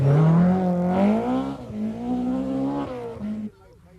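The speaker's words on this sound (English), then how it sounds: "here's the hard-charging Bertie Fisher in a similar right-hand drive BMW" A right-hand drive BMW rally car charges along a stage of the 1990 Circuit of Ireland Rally, its loud engine note rising and falling as it passes close by before cutting away abruptly near the end.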